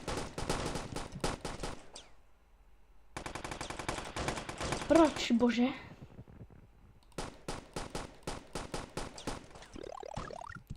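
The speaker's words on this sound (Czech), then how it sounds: "slyším střelbu, no tak pánové" Gunfire in the 2D shooter video game Boring Man: rapid machine-gun bursts, a short pause, then more sharp volleys, with a man briefly exclaiming over the shooting.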